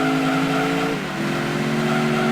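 A video game race car engine, a 427 in Gran Turismo 2, drones steadily at high revs, dropping in pitch for a moment after a shift, then holding a buzzy, constant tone.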